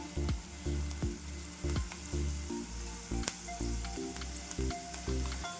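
Potato bhaji masala with onions roasting in oil in a pan, a close steady sizzle accompanied by rhythmic knocking and scraping of a spoon stirring at a regular pace.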